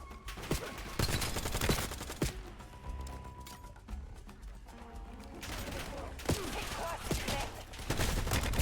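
Dense bursts of gunfire rattle through a Black Ops 7 campaign scene, a continuous fusillade with heavier thumps layered over the game's background sound.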